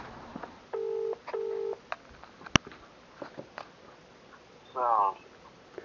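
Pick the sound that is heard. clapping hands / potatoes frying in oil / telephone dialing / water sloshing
telephone dialing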